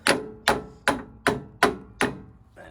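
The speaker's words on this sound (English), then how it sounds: "Just tap that up with the hammer" A hammer strikes a 17.5-foot metal bar six or seven times at a steady, even pace, each sharp close knock ringing briefly before the next.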